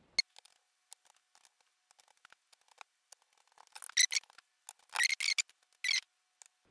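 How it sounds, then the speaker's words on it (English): Screws are driven back into the case of a GPD Win Max handheld PC, heard as faint, scattered ticks and short scraping squeaks in a quiet room, with bursts of sharper screwdriver grinding toward the end. "so we'll put back the screws."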